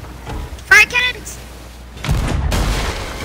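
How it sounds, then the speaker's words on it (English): Ship cannons fire in the pirate game Sea of Thieves: after a brief voice, a heavy rolling boom of blasts and rumble fills the rest, loud and close. "Fire cannons!"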